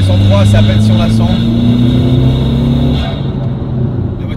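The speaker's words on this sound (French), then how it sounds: "Je passe à vitesse en 3, c'est à peine si on la sent." A stage 3 tuned car with an automatic gearbox shifts into third gear, a steady engine drone that changes pitch smoothly as the gear engages, with someone talking over it.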